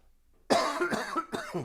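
A person coughs in a quiet podcast studio, a close burst of roughly three coughs in quick succession after a short silence.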